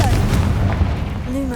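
A Confringo fire blast spell from Hogwarts Legacy, heard as a loud, sustained booming blast that fills the moment right after a shouted casting, with a whooshing rush over the roar.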